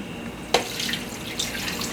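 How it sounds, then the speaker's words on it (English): Turkey broth pours steadily into a cooking pot, making a continuous close liquid splash and gurgle that begins sharply after a brief quiet moment and keeps running to the end. "So I'm going to add this broth."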